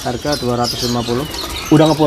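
Caged birds at an Indonesian bird market coo and call in repeated short harmonic bursts, loud and close, while people talk over them about price.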